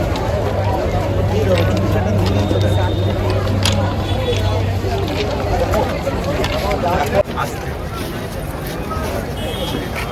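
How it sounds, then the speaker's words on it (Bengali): Dense crowd hubbub at Naihati railway station, a steady wash of many overlapping voices with footsteps and background traffic, continuous and fairly loud throughout. "নেমে গেছি আমরা নৈহাটি স্টেশনে"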